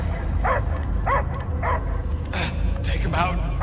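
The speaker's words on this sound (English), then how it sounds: "I hear only barking." A dog character in the Guardians of the Galaxy video game gives several short barks and yips in a steady rhythm, heard over a loud, continuous game soundtrack.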